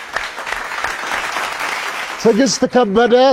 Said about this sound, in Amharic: ለሁለቱም አንድ ጊዜ አጨብጭቡላችሁ